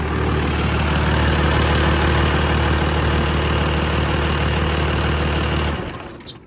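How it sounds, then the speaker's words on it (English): A 12-valve Cummins diesel idles steadily with a low, even rumble, then dies away as the manual fuel shutoff cuts it, ending in near silence and a small clunk. "There we go, a little manual fuel shut off action."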